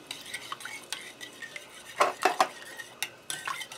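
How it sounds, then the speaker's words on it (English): A spoon stirring seasonings for a slow cooker pork roast in a dish, close and quiet, with a string of irregular scraping and clinking strokes against the container. "let me get in and stir this all up"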